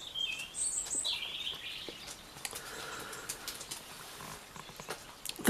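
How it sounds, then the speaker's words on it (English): Wild birds chirping and calling around garden bird feeders on a cold morning, with quick high tweets near the start, then soft scattered chirps and faint rustling over quiet outdoor background. "The bird feeders are all filled up to the brim, which is really good because the poor old birds are a bit cold this morning"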